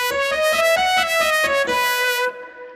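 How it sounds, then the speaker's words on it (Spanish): A Yamaha Tyros keyboard plays layered trumpet, piano and flute voices together in a short run of stepped notes. The chord is rich and bright and close, then cuts off and rings out briefly into quiet. "Tengo una trompeta, un piano y una flauta por ahí."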